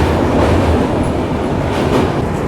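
The Vibhuti Express passenger train crosses a bridge with a loud, continuous rumble and rattle of wheels and cars, steady and close throughout, with no voices.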